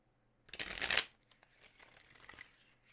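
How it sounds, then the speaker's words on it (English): A deck of playing cards being riffle shuffled nearby, one sharp burst of rapid fluttering card snaps lasting about half a second, followed by softer rustling and handling of the cards. "I learned how to shuffle real good."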